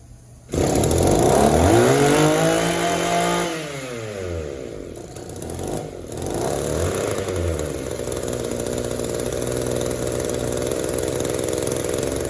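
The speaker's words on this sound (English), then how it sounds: "It wants to bog a little bit between idle and wide open throttle." A two-stroke engine with a poorly responsive carburetor revs up loud and close, bogs and sags between idle and wide open throttle, then settles into a steady rough idle with no talk.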